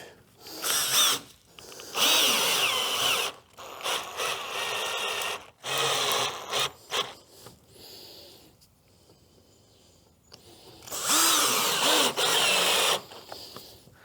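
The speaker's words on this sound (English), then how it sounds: "Wax up your screws." A power drill driving wax-coated screws into wood for a boat's transom, in several loud whirring bursts of a few seconds each, with short quiet pauses between them.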